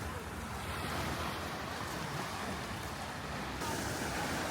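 Sea waves wash steadily onto the shore at a seaside spot, a continuous broadband surf roar with gusts of wind noise on the microphone and no clear break.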